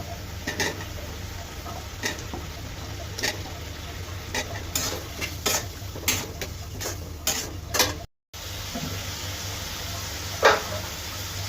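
Fried potatoes being stirred into cooked-down spice masala in a pan for a fiery rohu fish curry, with repeated scraping strokes and a soft sizzle underneath, close and steady.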